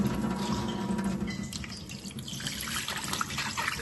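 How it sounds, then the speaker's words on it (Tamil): Fruit being washed by hand in water, with steady running and splashing water from a tap into a basin, close and continuous with small drips and sloshes throughout, no talking. "நிற்கிது தண்ணியில் நல்லா கழுவணும்"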